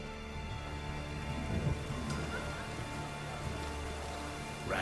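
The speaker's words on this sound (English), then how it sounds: "Rain again." Steady rain falls in The Witcher 3, a dense, even hiss of drops on surfaces with a faint low rumble beneath, continuous throughout with no voices.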